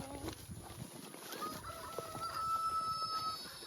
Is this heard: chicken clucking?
yes